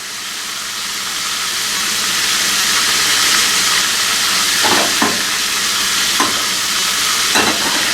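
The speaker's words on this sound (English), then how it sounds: "In my saucepan, I got me some butter. Get my heat on there. Turn that down on low. Melt that up a little bit." Butter melting over low heat in a saucepan gives a steady, close sizzle that builds gradually, with a few brief pops and crackles near the end and no talking.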